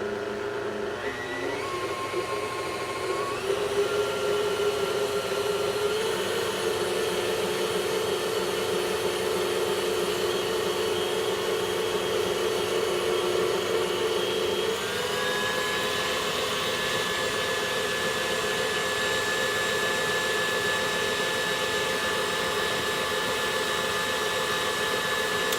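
Electric mixer blending milk into old-fashioned Southern tea cake batter, a steady high whine running throughout with a pitch shift partway, close and alone.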